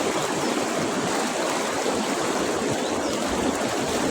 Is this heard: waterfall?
yes